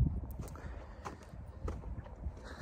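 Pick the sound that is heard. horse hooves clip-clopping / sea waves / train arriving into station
horse hooves clip-clopping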